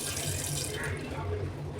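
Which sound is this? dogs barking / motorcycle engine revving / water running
water running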